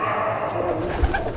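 Madrasi pigeon cooing briefly and close against a noisy, busy background, with a low thump near the end.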